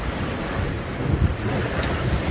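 Sailboat running under mainsail and genoa at six to seven knots, a steady wash of water along the hull with constant wind rush over the microphone, no voices.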